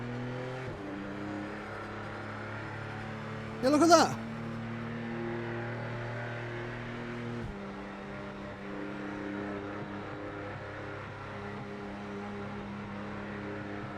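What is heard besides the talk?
car engine revving in a racing video game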